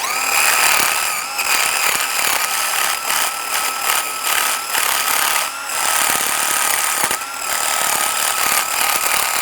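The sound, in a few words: wire brush cleaning wheel hub mounting area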